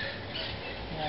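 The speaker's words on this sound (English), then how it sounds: "You can hear the parrots." Harsh parrot squawks cut through a dense, noisy outdoor bush background in Corozal, Belize, a brief burst of raucous calls at moderate distance.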